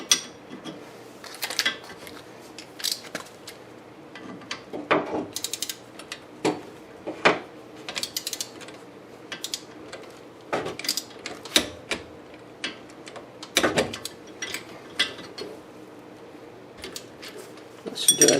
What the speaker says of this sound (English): We're only going to torque these down to 25 foot-pounds.